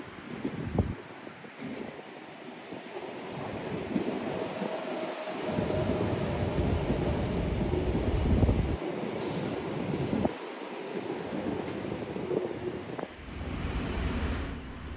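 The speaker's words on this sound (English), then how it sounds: "Here is a Tangara train on the left and a Series 2 Waratah on the right." Sydney Tangara and Waratah passenger trains rumbling through a station, rolling noise rising and falling as carriages pass, with gusty wind buffeting the microphone.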